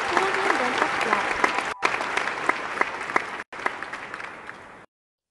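A theatre audience bursts into loud, dense applause and roaring cheers at the end of a half-hour show about a bird imitator in Hong Kong. The clapping is close and sustained, with two brief cutouts, before it stops abruptly.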